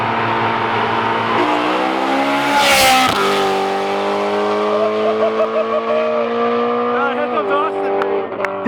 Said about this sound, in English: Wait for the downshift.